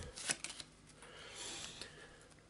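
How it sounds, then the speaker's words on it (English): A deck of board game cards is shuffled close by, quiet riffling flicks and soft papery slaps coming in short uneven bursts with no talking. "And let's shuffle away and see what he gets."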